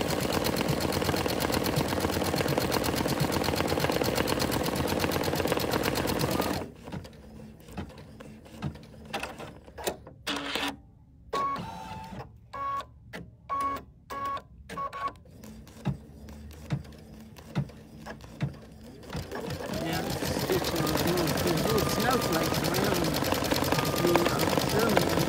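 An embroidery machine stitches a snowman design using Mylar, giving off a steady mechanical whir with a choppier, stop-start middle stretch, and a voice talks at points.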